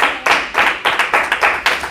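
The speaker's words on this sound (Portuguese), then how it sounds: "Salva de palmas para o Senhor que Ele merece." A church congregation claps in unison in praise of the Lord, producing loud, rhythmic bursts of clapping roughly four times a second, close and energetic.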